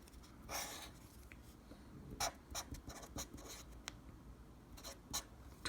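Pen or pencil writing numbers on paper while working a math problem, a steady run of soft scratchy strokes with brief pauses, close and quiet.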